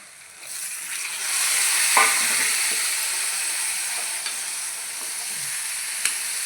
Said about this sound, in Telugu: టమాటాలు వేసుకొని కలుపుకోవాలి కొంచెంసేపు.